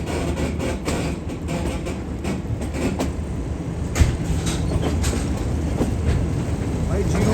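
Pak Business Express train rolling slowly through Kotri Junction on Pakistan Railways, a continuous heavy rumble and rattle of wheels and carriages with a sharp clank midway, while a voice talks faintly over it.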